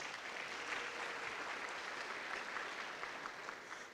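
Steady audience applause fills the room, a dense even patter of many hands clapping at moderate distance for several seconds without a break.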